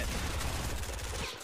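Pump shotgun fire in the video game Fortnite, a short burst of loud, close blasts with heavy low-end boom, fading out at the end.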